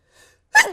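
A single sneeze from a person during a podcast conversation: a soft inhaled gasp followed by a sharp, loud burst that trails off quickly, close to the microphone.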